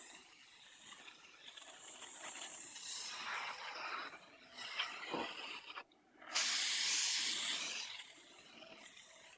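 Spray paint hisses onto a Nerf N-Strike Elite Disruptor blaster in several long bursts of varying strength, broken by a short pause, close and with no voices.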